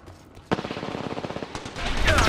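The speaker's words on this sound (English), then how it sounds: "Yeah, I'm getting shot at." Automatic gunfire in the shooter game Apex Legends, with a sudden onset and then a rapid, even burst of close, punchy shots, followed by a louder low rumble at the end.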